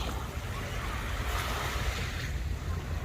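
Sea waves wash steadily onto a beach on the southern coast of France in a continuous broad roar, with heavy wind buffeting the microphone and no talking.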